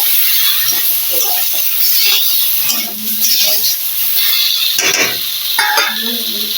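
Mustard and green chili paste stirred into a simmering fish curry with eggplant and tomato, a loud close sizzle and hiss with scraping stirs throughout, brief voice-like bits mixed in.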